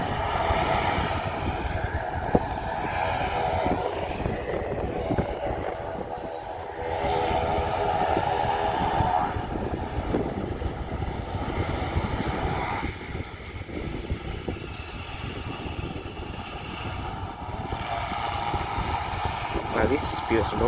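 Jet airliner engines roar at an airport, a loud sustained rumble with tonal whine that swells and fades over twenty seconds, while a person talks intermittently nearby.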